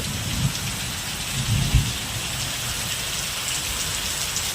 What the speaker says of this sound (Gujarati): ઘણો બધો વરસાદ ગાજવીજ સાથે આવી રહ્યો છે.